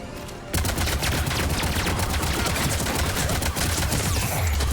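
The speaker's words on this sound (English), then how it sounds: "Let's head to the sound of the gunfire, I guess." Sustained automatic gunfire rattles in the video game Mass Effect 3, a dense, loud barrage of rapid shots that erupts after a brief quiet moment and continues without pause.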